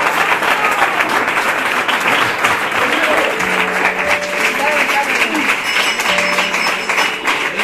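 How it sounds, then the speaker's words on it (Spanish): Congregation applauding the Lord at a church marriage convention, a steady wash of clapping from a large crowd that continues throughout, with some voices and faint tones mixed underneath. "Dale un aplauso al Señor."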